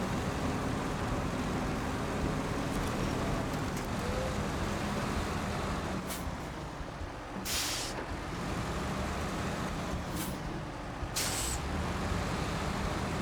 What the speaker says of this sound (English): this tractor, or truck actually